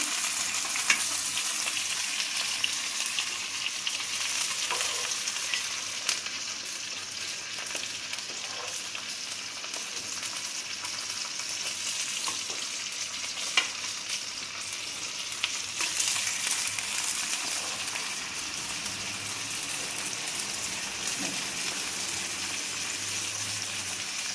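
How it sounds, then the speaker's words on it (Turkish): Beef for a roast sizzles and crackles steadily in hot oil for a long stretch, a constant frying hiss with occasional pops and stirring. "Şöyle altını üstünü kızartacağız arkadaşlar"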